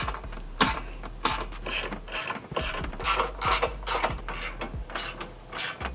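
Ratchet tightening exhaust bolts on a BMW G87 M2 during an AWE exhaust and mid-pipe install, giving close, rapid bursts of sharp pawl clicks in repeated strokes with brief pauses between them.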